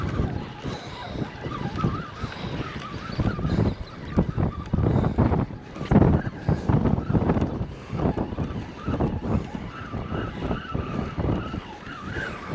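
Strong wind buffets the microphone on a beach during surf fishing, a loud, continuous gusting roar with rushing surges that swell and fade throughout, no voices present.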